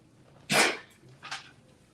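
A sharp, close sneeze bursts out in a quiet room during a Christian teaching session, followed a moment later by a smaller, softer second burst.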